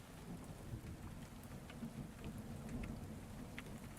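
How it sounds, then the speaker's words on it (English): Steady rainfall with low rolling thunder in the beaver colony-building game Timberborn, quiet and continuous, with no voices. "Is that rain instead?"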